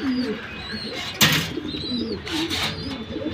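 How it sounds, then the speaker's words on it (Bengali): A pair of deep blue fantail pigeons coo up close in repeated soft, throaty phrases, with thin chirps and a brief rustling clatter breaking in near the middle. "এই হলো এক জোড়া পাঙ্খি কবুতর"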